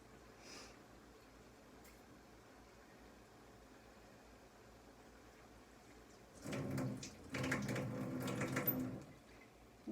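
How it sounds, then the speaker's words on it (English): Water poured into canning jars of white beans and bacon: after a quiet stretch, a steady close rushing pour begins and runs for about three seconds with a brief dip. No one talks. "when I put water in it, I'm going to fill it up"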